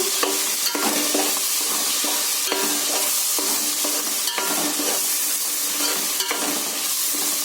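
Tomato fish curry is stirred in a pan, with a continuous close sizzle and repeated scraping strokes of a spoon against the pan at an uneven rhythm, with no voices.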